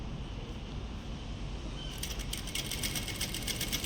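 A sewing machine stitches thread piping, starting after a quiet moment of room noise and then running steadily with a fast, even mechanical chatter, close and moderately loud.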